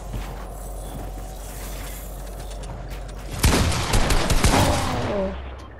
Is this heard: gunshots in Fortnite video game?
yes